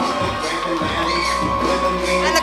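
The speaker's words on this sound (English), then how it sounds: "What an ovation they are receiving upon their return here." A wrestling crowd at a pro wrestling show cheers and applauds in a sustained ovation. The roar stays dense and steady, with scattered shouts and whoops rising through it.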